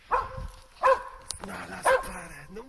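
Dog barks a few times during a deer antler shed hunt in the outdoors, short separate woofs and yips at close range, with a person talking around them.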